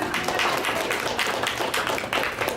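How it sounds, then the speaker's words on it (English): An audience applauds children after a poem recitation at a homework club volunteer training, a steady patter of many clapping hands, fairly close and continuous for a couple of seconds. "Give them a big round of applause."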